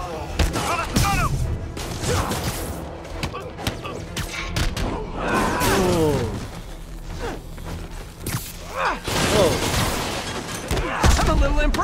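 Bursts of gunfire, bullet impacts and thuds in Spider-Man on PS4 crackle through a busy combat scene, repeating in loud clusters, with in-game voices talking among the shots.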